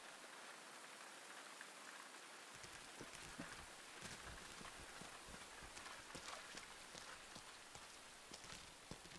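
Steady rain falling in a video game, a dense hiss of drops on surfaces with irregular patter and occasional louder taps, continuous and fairly close, with no voices.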